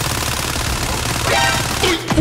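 Fast sustained automatic fire from a Fennec (Vector) submachine gun in Call of Duty: Modern Warfare multiplayer, a dense loud rattle that runs without pause and ends with a short clatter.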